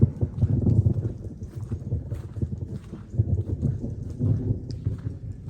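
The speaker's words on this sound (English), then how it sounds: "We have thunder in the distance." Distant thunder rolls around a barn area as a steady low rumble with gentle swells, blended with soft background clatter and wind.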